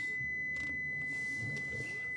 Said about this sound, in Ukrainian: Воно пищить з такою ошибкою